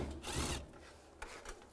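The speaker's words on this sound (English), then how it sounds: "Take these screws out down here. Use a T25 socket." A power driver with a T25 socket spins screws out of a 2015-2020 Cadillac Escalade front grille, one short whirring burst followed by a quieter second spin nearby.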